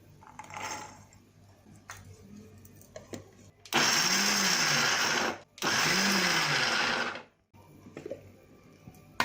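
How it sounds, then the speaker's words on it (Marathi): An electric mixer grinder coarsely grinds peas in two loud, whirring bursts of about two seconds each, with a short pause between them and quieter kitchen handling noises before and after. "हा वाटाणा आहे ना तो एकदाच फिरून घ्यायचा आहे मिक्सरला जास्त बारीक करायचा नाही"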